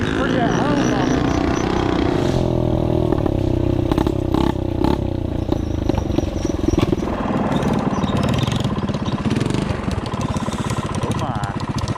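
A worn-out, cheap pit bike engine runs loud and rough close by, its buzzing drone surging and easing as the bike churns through thick mud, with someone talking over the noise.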